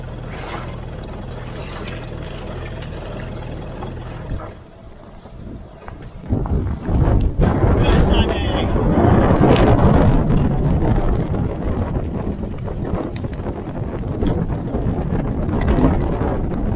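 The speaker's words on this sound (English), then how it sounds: "these are pretty full-on winds" Strong gusty wind roars across the microphone aboard a sailboat off Baja Mexico, a steady rush that surges louder partway through and stays heavy, with the boat's motion and water noise underneath.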